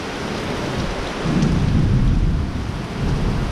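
Thunder rumbles low and heavy through steady, dense rain during a downpour, swelling briefly in the middle and then settling back into the constant hiss of falling water.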